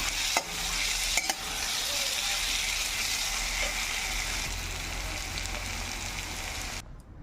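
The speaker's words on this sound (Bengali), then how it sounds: "তো দেখো এই আমার ছোলাতে ঢেঁকি শাক ভাজা হয়ে গেছে।" Dheki fern greens and chickpeas fry in a pan, a steady close crackling sizzle like rain on a surface, broken by a couple of sharp utensil knocks early and cutting off abruptly at the end.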